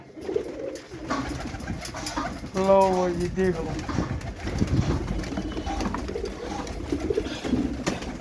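Pigeons at a market sale coo in a throaty rolling burst near the middle, with someone talking and general background chatter around them.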